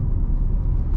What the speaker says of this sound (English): you do hear a bit more of that engine